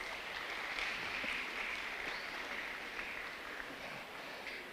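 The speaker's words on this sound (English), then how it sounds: "Please give a round of applause to our dear parents." Soft, even applause from a school graduation ceremony audience honouring parents, a continuous wash of clapping at a distance with no voices over it.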